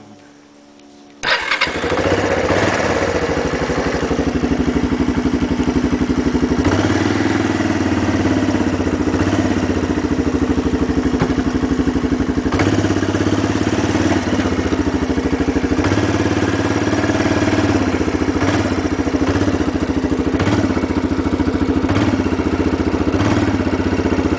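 A Kawasaki Lakota ATV engine fires up after a warm start and runs steadily for over twenty seconds, a loud, close, continuous motor drone with slight changes in pitch and a clattering edge, and no talking.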